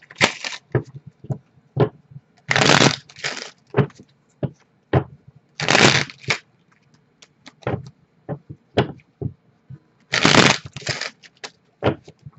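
Tarot cards being riffle-shuffled in several quick bursts, each a crisp fluttering rattle followed by soft taps and clicks as the deck is squared, close up.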